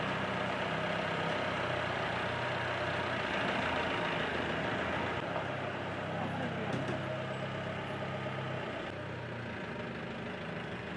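A car engine idles steadily and fairly close by at a house gate, a continuous mid-pitched rumble throughout with faint voices mixed in.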